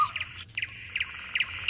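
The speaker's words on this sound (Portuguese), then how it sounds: "o suave canto dos pássaros" Soft birdsong in a calm outdoor setting with leaves swaying in a breeze: short repeated chirps and tweets in three or four quick clusters, fairly quiet and with no voices.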